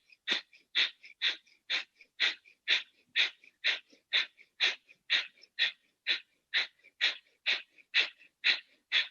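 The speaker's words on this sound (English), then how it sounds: "Kapalabhati, begin to exhale" Kapalabhati yoga breathing: a steady train of about twenty sharp, forceful nasal exhales in quick even rhythm, each a short loud puff, close and alone with no talking.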